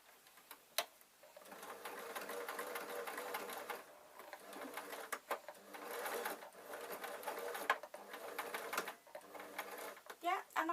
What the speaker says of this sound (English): I'm going to sew over it a few times